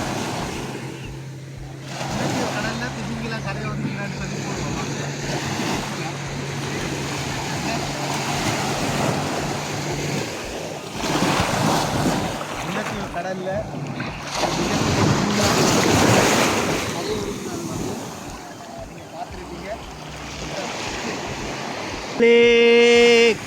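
Sea waves wash and surge around a boat off the Mullaitivu coast while strong wind buffets the microphone in gusts, rising in louder bursts toward the end.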